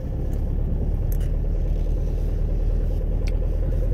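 Steady low road rumble from inside a moving car in Spain, a constant dense drone of engine and tire noise with no breaks, close and fairly loud.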